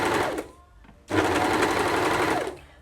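An overlocker serges a fabric edge, whirring loud and close in a brief burst, pausing, then running steadily for about a second and a half before stopping.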